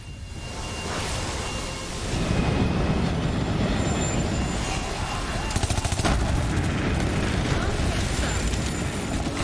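A heavy train in Borderlands 3 rumbles and clatters continuously, loud and close, with metallic screeches and sharp bangs mixed in near the middle.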